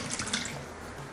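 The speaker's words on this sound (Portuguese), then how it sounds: "Caiu a água, tá caindo a" Water splashes and pours in a short, soft burst, a faint liquid rush with a few brighter spatters.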